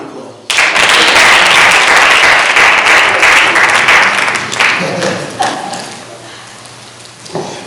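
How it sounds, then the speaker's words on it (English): Audience applause for speaker Timothy Williams at a Black History talk bursts in suddenly as dense, loud clapping, holds for about four seconds, then thins into scattered claps. "Give him a round of applause."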